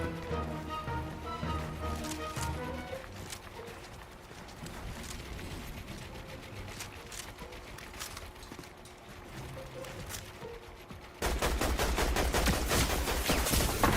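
Gunfire in the video game Fortnite plays as scattered sharp shots behind game music and ambience, then a sudden loud, dense burst of firing fills the final seconds.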